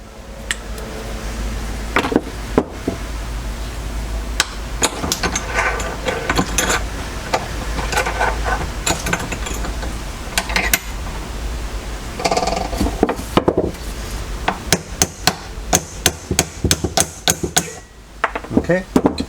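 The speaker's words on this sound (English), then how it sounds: "so the first pin is almost all the way out. I'm gonna use the chisel once again" A hammer strikes a chisel to drive a hinge pin out of a Mercedes CLK W209 convertible top hinge, producing a run of sharp close metallic blows at an uneven pace over a steady background hum.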